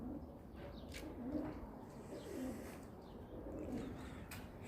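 Pigeons coo softly and repeatedly in low, rolling calls, with faint chirps and light background noise around them.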